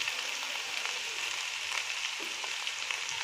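Chicken fried rice sizzles steadily in a hot pan as a tablespoon of homemade soy sauce goes in, a dense, even frying hiss with faint stirring clicks and no voices.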